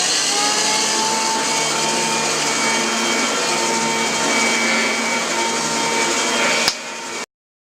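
A vacuum cleaner drones steadily and loudly up close, a constant whine and rush that cuts off abruptly near the end.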